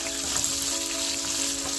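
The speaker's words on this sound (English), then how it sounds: "Add the cashew nuts. This has to get a little roasted" Cashew nuts roasting in a pan for chicken curry, giving a faint, steady sizzle with soft crackles, heard alone.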